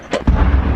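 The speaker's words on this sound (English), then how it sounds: "Explosions shake the ground, shattering an early morning calm." A single close, heavy explosive boom from an attack on the Russian city of Bryansk, a sharp crack followed by a deep rumble lasting under a second.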